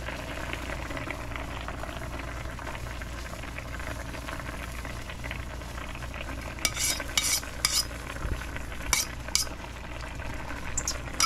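Eggs are stirred in a cooking pan for sarsiado, a steady low sizzle and bubbling bed with a few clear scrapes and clinks of a utensil against the pan near the end.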